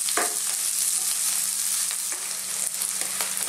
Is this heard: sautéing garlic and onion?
yes